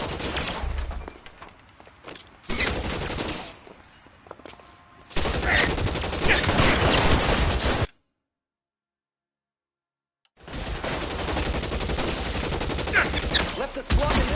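Gunfire in L.A. Noire, loud bursts of rapid shots in clusters with quieter gaps between them, a stretch of complete silence midway, then heavy firing resumes.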